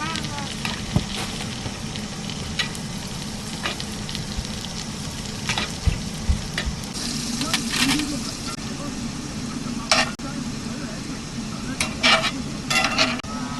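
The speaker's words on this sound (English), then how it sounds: "the oil is splattering everywhere" Hot oil sizzles and splatters in a frying pan at an Arizona RV campground, a dense, steady crackle broken by sharp pops and spits, close and loud throughout.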